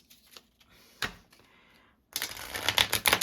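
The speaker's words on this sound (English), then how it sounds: "I'm gonna cut the deck." A deck of tarot cards being cut and shuffled by hand, with a few soft taps early on and then a dense, loud burst of riffling card noise in the second half.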